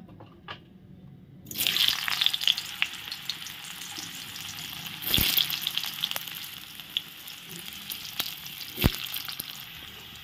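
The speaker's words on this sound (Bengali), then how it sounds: "এখন আমি প্রথমে আলুগুলো ভেজে নেব একটু" Potatoes fry in a pan with a steady sizzle that jumps up after a brief silent start, broken by a few sharp clanks and stirring knocks.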